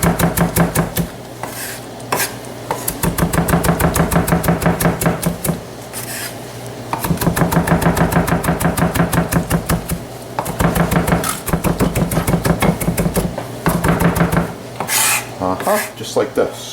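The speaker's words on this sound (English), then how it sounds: "At this point I like to chop my basil" A knife roughly chops fresh basil on a board in a rapid, steady patter of close, crisp strokes, split into several bursts with short pauses between.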